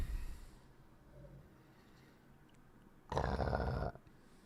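A pet dog growls from somewhere in the room, a short, rough rumble that swells loud for under a second after a long quiet stretch, with no one talking over it.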